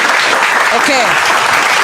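An audience applauds in a brisk, dense burst while a voice speaks briefly over it.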